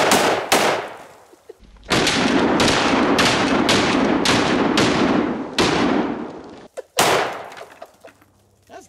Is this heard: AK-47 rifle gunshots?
yes